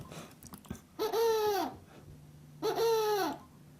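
A recorded sound played backwards on a Nintendo DSi comes out as two separate rising-and-falling tonal swoops, each about half a second long, resembling an owl's hoot against a quiet background.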